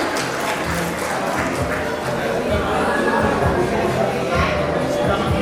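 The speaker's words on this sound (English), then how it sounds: "Please give her a huge round of applause" A school audience at an annual prize distribution ceremony gives sustained, hissing applause in a large hall, loud and even throughout, with some voices and shuffling mixed in.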